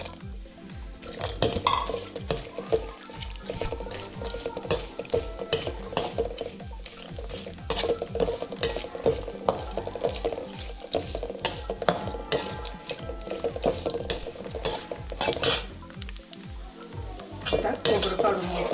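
Grated coconut fries in two spoons of ghee for fasting laddu while a spoon stirs it steadily. Close, continuous sizzling runs under frequent scraping and clinking against the pan, with no talking.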